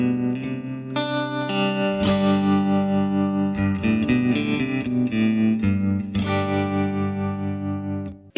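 Electric guitar run through a pedalboard into an amp modeller with tremolo effect, sustained chords pulsing and shimmering with distortion, loud and continuous without any talk.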